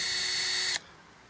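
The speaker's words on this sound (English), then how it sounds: "without any pressure, that drill bit actually will walk through all the soft tissue" A drill bit runs lightly into soft tree bark at a trunk site for injection, a steady high whining drill buzz that stops abruptly partway through, leaving quiet outdoor background.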